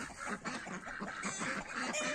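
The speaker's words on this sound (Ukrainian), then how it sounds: "Кури кричать" Chickens clucking and squawking in a farmyard in the morning, repeated short calls at a moderate distance with ducks and other fowl mixed in.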